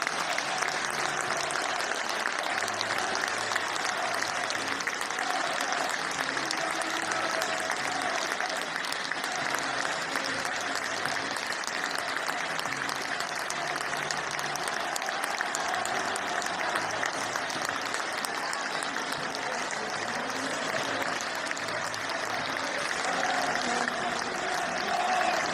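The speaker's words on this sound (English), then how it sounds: "they clapped them off the field as well" Sustained applause from a football crowd at Hearts vs. Thistle, supporters clapping the opposing side off the field; steady, dense clapping across the whole stretch with a broad stadium wash and no pauses.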